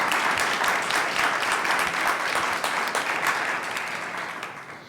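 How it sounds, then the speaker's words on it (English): Sustained audience applause for the Center for Earth Ethics at a talk on racial justice and climate change, a loud crowd of clapping hands that gradually thins and fades toward the end. "I'd like you to give a hand of applause for the Center for Earth Ethics"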